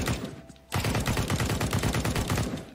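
Rapid automatic gunfire from the Counter-Strike: Global Offensive video game, a loud, steady burst of closely spaced shots that starts abruptly after a short quiet moment and keeps going to the end.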